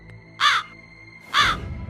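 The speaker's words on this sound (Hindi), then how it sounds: "एक जख्मी कौवा उसके झरोखे पर आकर बैठ जाता है और कांव कांव करने लगता है।" A wounded crow perched at a window gives two loud, harsh caws about a second apart, close by and alone against a quiet background.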